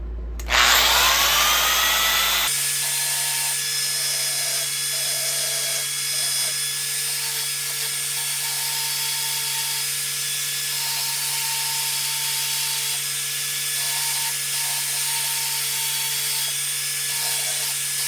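A homemade fret leveling file has its curve ground on a power grinder, a steady loud whine holding on continuously from start to finish with no talking.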